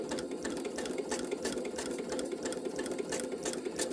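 A sewing machine stitches fabric continuously, its fast rhythmic mechanical whir and needle clatter close and steady throughout, with no voice over it.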